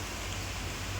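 Heavy rain drums down in a constant, thick roar, unbroken and close.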